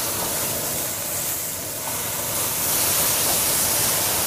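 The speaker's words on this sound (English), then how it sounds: "Now I'm adding the red wine now to give it a little flavor before we put it in the oven." Red wine poured into a hot Nordic Ware cast pan over beef fond, giving a loud, steady, close hiss of sizzling steam that swells slightly toward the end, with no talk.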